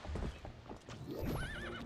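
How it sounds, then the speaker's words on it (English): A horse in the video game Twilight Princess neighs and whinnies, with clip-clop hoofbeats beneath and a rising, wavering whinny toward the end, loud and close over game sound. "Now you can call your horse anywhere?"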